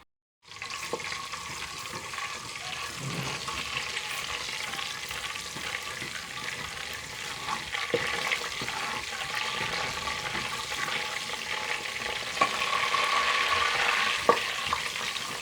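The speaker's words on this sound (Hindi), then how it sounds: "सबसे पहले हम डालते हैं खड़े मसाले डालते हैं, इसको भूनेंगे हम" Whole spices frying in a pan for chicken do pyaza gravy, a continuous close sizzle that swells gradually louder over about fifteen seconds, with occasional small clicks and no talk.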